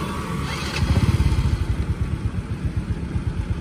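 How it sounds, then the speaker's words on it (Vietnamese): A Honda Wave Alpha motorcycle idles close by, its stock exhaust putting in a steady rapid low pulse that swells briefly before settling back to an even, quiet idle. "Nghe cái bô phập phập phập phập thôi."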